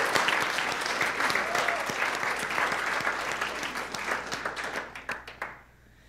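A church congregation bursts into sustained applause, many hands clapping together in a dense, even roar that thins out and fades over the last second.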